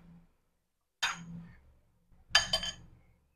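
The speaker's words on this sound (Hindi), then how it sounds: "इसको पहले हम थोड़ा सा मिक्स कर लेंगे।" Ingredients are mixed in a bowl for copycat KFC chicken hot shots: two or three short clinking bursts of a utensil against the bowl with quiet gaps between, close and fairly soft, with no talking.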